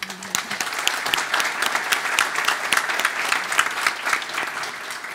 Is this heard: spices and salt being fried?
no